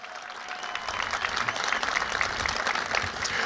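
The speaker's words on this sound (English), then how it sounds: "How about a round of applause for Jenny Love Meyer" Crowd at the Love's Field dedication ceremony for a ballpark applauds for Jenny Love Meyer, a steady wash of clapping that builds slightly and holds for several seconds.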